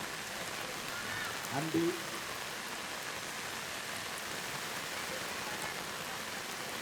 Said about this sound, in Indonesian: Dan melihat cukup keras nampaknya hujan di Gelora Cipelem